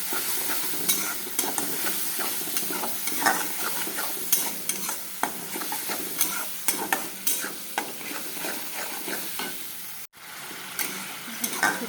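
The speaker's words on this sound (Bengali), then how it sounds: "মশলার মধ্যে সবই দেওয়া আছে, মশলাটা ভালো করে কষাবো।" Spice paste sizzles in hot oil in a home kitchen for a vegetarian dish, with a continuous frying hiss broken by frequent scraping stirs of a spoon, close and fairly loud with no talking.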